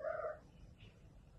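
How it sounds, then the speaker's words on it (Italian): A cat gives a short, faint meow at the very start, then only a quiet low background hum and murmur remain. "Gatti."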